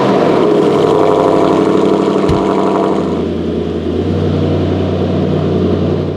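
A Renault Clio V6 engine idles after a cold start, a loud, steady low rumble that settles slightly lower and quieter partway through, with a brief knock near the middle and no talking.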